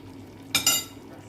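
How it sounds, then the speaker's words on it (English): Coriander and ground masala powder are stirred in a cooking pot for white chicken karahi, heard as one short metallic scrape with a clink, close by and fairly quiet. "Then you stir it."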